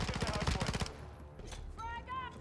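Video game gunfire from a PDSW 528, a rapid burst of close automatic shots in the first second, followed by quieter game effects and a brief electronic chirp.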